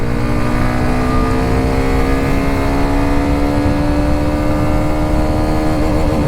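Hero Xtreme 125R motorcycle accelerating hard through its gears toward fourth, the engine note climbing steadily in pitch, loud and close, with road and wind roar underneath and no talking.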